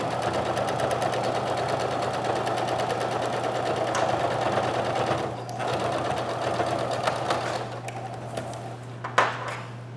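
A sewing machine runs steadily while top stitching a sweatshirt pocket, its motor a continuous close hum with dense needle chatter, briefly easing near the middle and pausing with a small click toward the end.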